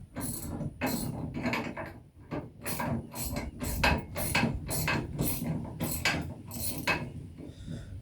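A nut is tightened back onto a zero turn mower wheel, a rapid series of close metallic ratchet clicks and rattles in quick repeated bursts, with no voices.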